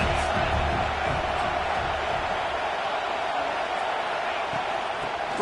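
A big stadium crowd at a college football game roars in a dense, continuous wash of noise, loud and steady throughout, with no single voice standing out.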